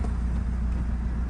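A Mazdaspeed 3 with a freshly installed clutch and new Damond Motorsports motor mounts runs steadily nearby, a continuous low engine rumble at an even level with no talk over it.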